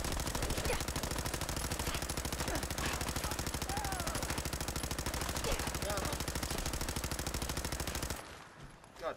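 Rapid automatic fire from a machine pistol in Fallout 4, a dense continuous burst of shots lasting about eight seconds before stopping abruptly, with faint speech mixed in.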